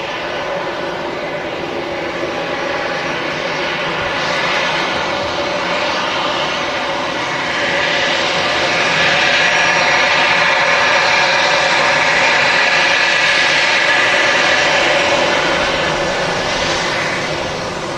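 Airliner arriving at Manchester Airport from Belfast, a loud, sustained jet engine roar that swells toward the middle and holds steady as it passes nearby.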